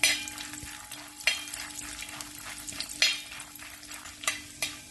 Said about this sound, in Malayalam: എണ്ണ ചൂടാവുമ്പം ഇതിലേക്ക് കുറച്ച് നിലക്കടലയും കുറച്ച് പൊട്ടുകടലയും കുറച്ച് അണ്ടിപ്പരിപ്പ് രണ്ടായി പിളർന്നതും ചേർത്ത് വറുത്തെടുക്കാം.